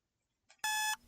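A phone alarm in the morning blares a loud, bright electronic beep lasting about a third of a second, right after a softer brief chirp, close and clear against near silence.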